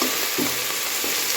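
Vegetables go into a hot pan for morning khichuri and egg bhuna, giving a steady close frying sizzle with a couple of soft stirring bursts, no voices.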